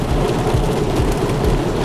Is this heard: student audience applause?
no